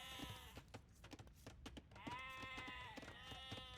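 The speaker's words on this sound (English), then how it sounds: "Dude, these sheep are so loud." Sheep in the real-time strategy game Age of Empires bleat repeatedly, several overlapping nasal bleats in quick bursts, fairly clear against a quiet game background with no talk.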